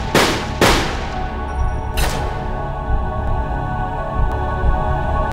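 Gunfire in a film scene: two sharp, loud reports in quick succession, then a third, each trailing into a long ringing decay over a dense, rumbling backdrop.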